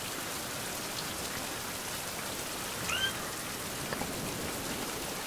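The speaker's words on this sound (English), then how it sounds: "It is still raining." Steady rain falls outdoors in the wild, an even wash of patter on surfaces with a brief chirp near the middle and no voices.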